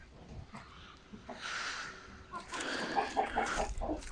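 Chickens cluck and murmur nearby in soft, irregular bursts, growing busier toward the end.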